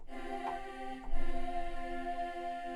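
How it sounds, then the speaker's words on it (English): A Bulgarian choir holds a sustained, wordless chord in rich harmony, the tone shifting slightly midway, steady and close with no speech. "So this is a Bulgarian choir."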